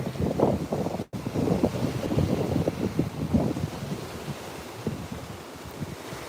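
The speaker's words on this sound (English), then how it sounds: "Check out the waves coming in underneath the boardwalk." Ocean waves wash in beneath a boardwalk under steady, strong wind buffeting the microphone, giving a continuous rough roar with surging swells throughout and no talking.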